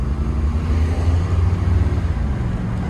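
A 1994 Lexus LS400 pulls away with a little wheel spin, its engine a loud, steady low rumble close by for a few seconds.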